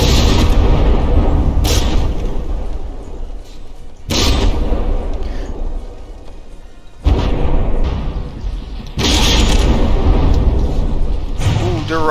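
Battleship shells and heavy gunfire in From the Depths during a Stein versus Paladin tournament brawl, with four loud booming blasts at roughly even intervals, each fading into a rumbling tail, under ongoing commentary.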